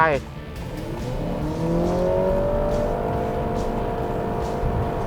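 A Honda Civic e:HEV RS in sport mode accelerates hard from 0 to 100 km/h, with a steadily rising, drawn-out engine drone heard from inside the cabin while someone talks over it.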